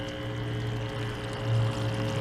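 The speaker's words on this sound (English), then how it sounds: "Water travels down this pipe" Pumped water pouring down a pipe and dropping into a garden pond, a steady low gurgling rush with a faint hum, continuous and fairly quiet across the short stretch, with no voices.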